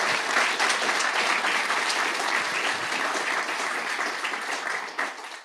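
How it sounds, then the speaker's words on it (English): A conference audience applauds a session group on stormwater contaminants, a full, even round of clapping that stays strong and then thins out near the end. "Okay, so one more round of applause for our group."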